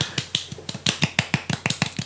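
A group of people clap together in a run of about a dozen sharp, fairly regular claps over two seconds, close and distinct, with no talking.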